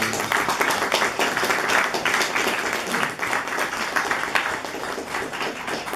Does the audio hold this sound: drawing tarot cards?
no